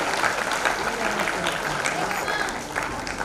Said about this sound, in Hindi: मैं चाहूंगी कि आप सब उनके लिए भी एक बार जोरदार तालियां बजाएं